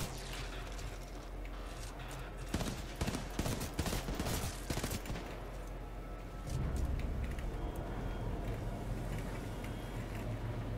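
Burst rifle fire in Titanfall 2, with dense clusters of rapid shots crackling for several seconds amid game noise, then giving way to a steady low rumble and ambient hum.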